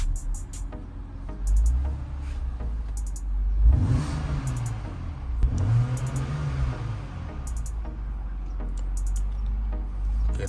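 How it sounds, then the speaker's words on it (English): A 2007 BMW X3 engine is revved hard while parked, rising in quick bursts over a steady idle rumble, close and loud, with no talking. "give it some gas real fast"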